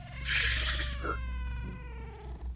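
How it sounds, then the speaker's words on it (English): A character in the video game Anthology of the Killer gives a cat-like meow, a bright harmonic cry that swells briefly and fades into a thin trailing tone over a low steady background hum. "why do you sound like a cat?"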